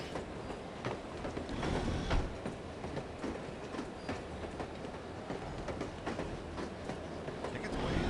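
Train rolling along the rails in the video game No One Lives Forever, a steady loud rumble with clickety-clack wheel rhythm throughout, no voices.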